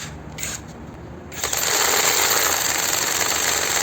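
A Geevorks cordless screwdriver drill runs at low speed with torque set to 17, a steady close whirring buzz that starts softly and jumps louder about midway, then holds a constant grinding drone to the end.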